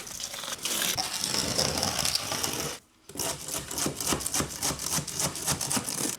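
Deck mud mortar, a 4:1 mix, packed by trowel under a shower drain flange for a shower mud pan: steady gritty scraping and crunching, close and fairly loud, a brief pause midway, then rhythmic packing strokes.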